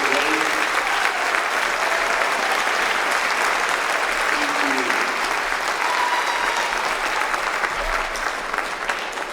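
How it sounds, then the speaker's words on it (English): Audience applause for the sponsors at a China Spring concert band spring performance, a steady dense roar of clapping from a large crowd that holds for the full stretch with no break. "Would you guys give a big round of applause for all of our sponsors?"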